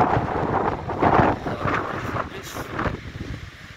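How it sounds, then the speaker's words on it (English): Strong wind roars and buffets the microphone on a black sand beach in Iceland, near Djupalonssandur and Dritvik. The gusts are loud and continuous, rising and falling without letup, and no one speaks. "The only thing is that strong wind."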